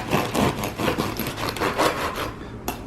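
A knife sawing through a loaf of bread for a panini, several close rough back-and-forth strokes in steady rhythm, then a pause and a final short scrape.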